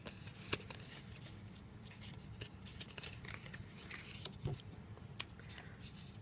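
A small paper Easter favor box being folded together by hand, giving faint, close crinkles, soft creases and scattered light taps and rustles over several seconds, with no talking.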